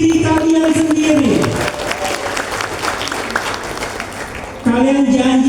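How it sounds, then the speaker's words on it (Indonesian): A seminar crowd breaks into applause between a voice speaking before and after, the clapping loud and dense in the middle stretch. "Jadi tepuk tangan untuk diri kalian sendiri."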